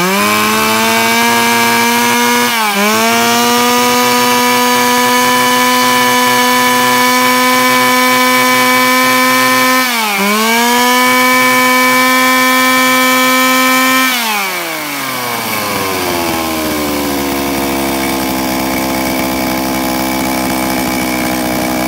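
A used Japanese chainsaw engine runs loud and close on a test run, steady high revving with two brief dips, then drops to a lower idle near the end.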